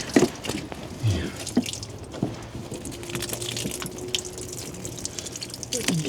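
Water drains from a van kitchen tank through a pipe, with soft irregular drips and trickles, light splashes and occasional faint handling noises close by.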